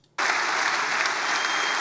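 A crowd bursts into loud applause for Pierre Poilievre's speech, starting abruptly after a brief quiet moment and continuing as a dense, sustained roar of clapping close by.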